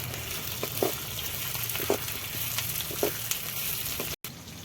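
Almonds and egg frying lightly in a pan on a mud stove, giving a steady soft sizzle with a few brief stirring scrapes, close and moderately loud, with no talking.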